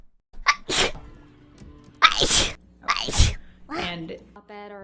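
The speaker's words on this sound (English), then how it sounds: "Oh. I gotta sneeze." Several sneezes burst out close to the microphone, each preceded by a short gasping inhale, loud and sharp, with a brief vocal sound at the end.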